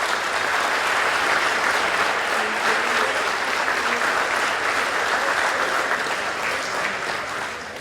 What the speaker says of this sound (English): Round of applause for Coach Francis